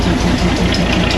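A diesel locomotive on the Darjeeling mountain railway gives a brief, steady, close, loud low engine rumble with a throbbing idle pulse.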